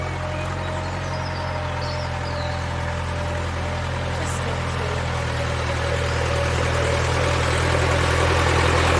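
A tractor engine approaching on a country lane, its steady low diesel rumble growing gradually louder over several seconds, heard alone without talk.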